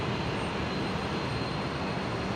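Virgin Australia jet rolling for departure from Brisbane Airport bound for Sydney, a continuous loud broadband engine roar with a faint high whine, steady and unbroken, no voices.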